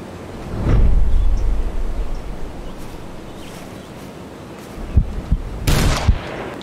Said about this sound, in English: Too many shots. Too many shots!